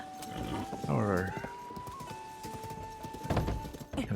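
Horse hooves clip-clop in steady rhythm in Zelda: Tears of the Kingdom, with a brief whinny and a sustained game tone, while someone talks over it.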